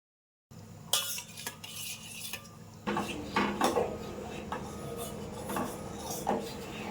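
A spoon stirs flaxseed gel in a pan over a very low flame, scraping and clinking against the metal in repeated close strokes that grow busier after a brief quiet start.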